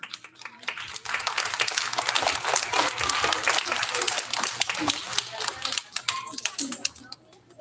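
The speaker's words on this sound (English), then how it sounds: "we have a round of applause for our 3PK award recipients" Applause for pre-K student award winners at an elementary school recognition ceremony: moderate, uneven clapping from a modest crowd with sharp individual claps and camera-like clicks, swelling in the middle and trailing off at the end.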